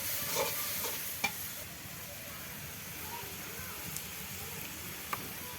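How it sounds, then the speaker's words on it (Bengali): Ginger, cumin and garlic paste masala frying in a pan gives a soft, continuous sizzle, broken by a few sharp utensil taps against the pan. "এখন আস্তে আস্তে মশলাটাকে কষিয়ে নেওয়া হবে"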